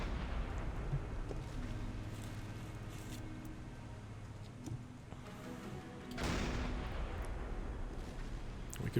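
Submarine deck gun shots in the naval game Silent Hunter 5 boom as heavy thuds over a constant low engine and sea rumble, with one big burst of fire near the end.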